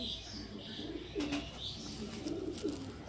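Soft, low coos from a female pigeon repeat a few times at close range, with faint chirping and rustling in the background.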